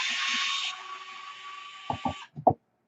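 A grinder trims the ends of Pro-Line F11 Hoosier no-prep RC foam tires with a steady, close, high whine for about two seconds, then stops, followed by a few dull knocks of the tire being handled.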